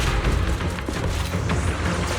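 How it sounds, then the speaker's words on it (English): Video game explosions from a cocoon's periodic blasts in Zenless Zone Zero, a continuous loud rumbling barrage of deep booms and crackling impacts with no pause. "The cocoon is sending out blasts at intervals. When they explode, get to the nearest cover immediately."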